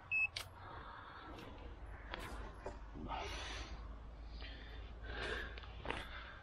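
Electronic bite alarm on a fishing rod during a night session on the River Ouse, a short high beep right at the start, then quiet outdoor noise with soft breathing and rustling.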